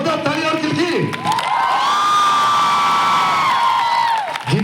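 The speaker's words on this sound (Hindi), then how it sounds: "खड़े हो गए, जोरदार तालियां और किसकी" A crowd at a college youth festival in Jind cheers, whoops and applauds loudly, with a long sustained shout rising above the noise and scattered voices at the start and end.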